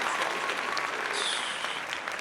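Applause from a small group at home, steady and close, filling the whole moment without any talking over it.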